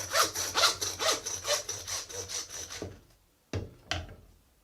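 A hand saw cuts through a goat shoulder at the blade bone, about seven rhythmic rasping strokes close up, then a pause and two final short scrapes.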